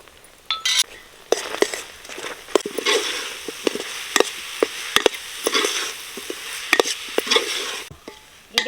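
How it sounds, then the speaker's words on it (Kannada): A jaggery and coconut filling with cardamom powder and roasted poppy seeds for kayi holige is stirred in a pan, with repeated scraping and clinking of a metal spoon against the pan over a faint sizzle. "ಇದೇ ನಮ್ಮನೆ ಒಂದು 5 ನಿಮಿಷ ತಿರ್ಸ್ಬೇಕು."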